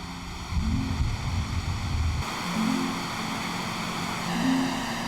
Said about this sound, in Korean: 폭포의 시원한 물소리가 울려 퍼지는 이곳에서